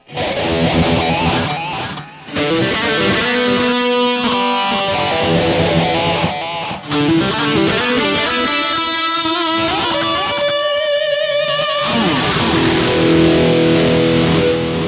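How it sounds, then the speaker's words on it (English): An electric guitar through a BOSS eBand JS-10 delay effect plays sustained, distorted notes and chords, each one trailing into repeating echoes that smear into a thick wash of sound. "But with the delay, it adds character."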